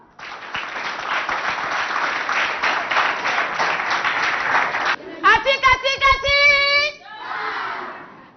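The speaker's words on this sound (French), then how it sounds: "On applaudit très très fort pour l'ami." A school audience of pupils applauds after a child recites a poem, with dense sustained clapping and children's shouts, then a few sharp cheering calls and a final burst of clapping.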